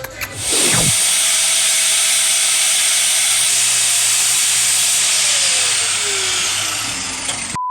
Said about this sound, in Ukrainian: Нам нужно було шила і Женя вирішив нахуй його зробити з гвоздя і болгарки.